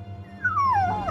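A dog whimpers in a single drawn-out, falling whine, close and fairly loud, over a low steady background hum.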